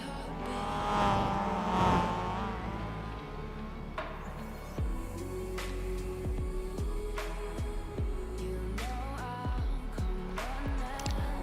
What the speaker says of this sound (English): Seems like the red MX-5 is playing catch up with the yellow one.